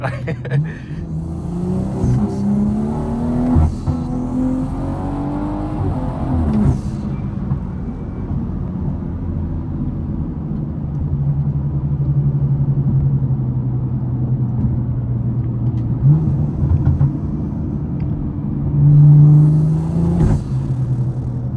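A BMW 340i running on race gas accelerates hard, its engine droning and rising in pitch through the gears, heard from inside the car with a steady road rumble. A voice also speaks over it.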